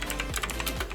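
Quick, close keystrokes clatter on a laptop keyboard in a rapid, uneven burst of soft clicks lasting about a second.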